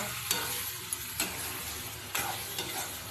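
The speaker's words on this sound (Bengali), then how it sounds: "চিকেন কারি মশলাটা আমি পুরো সব ঝেড়ে দিলাম এবার আবারও আমি একটু কষিয়ে নেব" Chicken curry masala being stirred and fried in a pan, a dense close sizzle with a few sharp scrapes and clicks of a spatula every second or so, no voices.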